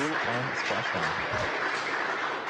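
Steady broadband applause at the landing of the Crew Dragon Resilience capsule, with a few low voices murmuring underneath early on, continuing evenly throughout.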